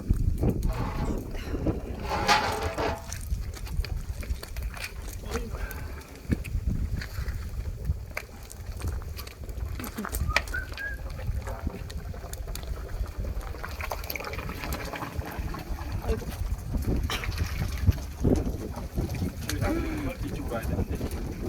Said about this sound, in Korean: 이거 바람 엄청 부네.